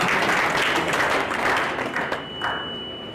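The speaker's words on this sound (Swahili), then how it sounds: "So tuko makofi." An audience at a community gathering breaks into steady, dense applause that fills the room, holding strong for a few seconds before easing off with scattered claps.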